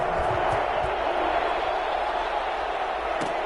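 A stadium crowd at an Atlanta Falcons vs New Orleans Saints football game gives off a steady, broad roar of distant voices and cheering that holds level throughout.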